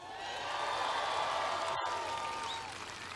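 Large rally crowd at a Trump campaign event in Jacksonville applauding steadily, a dense wash of clapping with faint cheers, sustained and fairly even across the moment with one sharp knock partway through.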